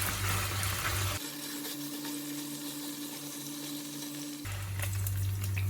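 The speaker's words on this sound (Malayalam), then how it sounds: "ഒരു ഷാലോ ഫ്രൈ ചെയ്താൽ മതി" Chicken pieces shallow frying in oil in a pan, a steady dense sizzle and crackle running throughout, loud and close, with a low hum in the middle stretch.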